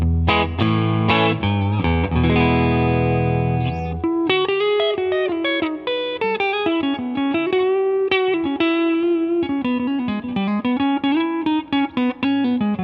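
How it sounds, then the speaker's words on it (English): A Fender Vintera II 60s Stratocaster electric guitar played clean on the neck pickup rings out alone: a few strummed chords, then a quick, bright single-note melodic line with sustained notes and bends. "We'll dive in with some clean tones, starting with the neck pickup, and see what this guitar is all about."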